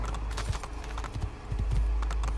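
Horse hooves clip-clop in the Assassin's Creed 2 video game, a steady run of hoofbeats in a near, continuous stride over a low background rumble.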